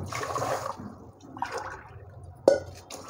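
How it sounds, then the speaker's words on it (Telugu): Water is poured from a glass into a pot of soaked rice in two short splashing pours, followed by a sharp clink near the end, with no talking. "ఒక గ్లాస్ రైస్ తీసుకున్నాను కదా, 2 గ్లాసులు నేను వాటర్ పోస్తాను."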